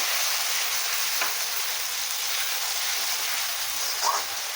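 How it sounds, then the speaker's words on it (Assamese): Onion paste for a fish curry sizzling steadily in a hot pan, a continuous close hiss with a few faint stirring scrapes and no talk. "এতিয়া মই ইয়াতে এড কৰিম পিঁয়াজ বটা, 2টা পিঁয়াজ বটা"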